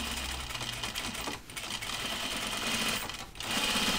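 A sewing machine stitches denim for Ginger jeans, running in a steady close whir that pauses briefly twice before picking up again, with no talking.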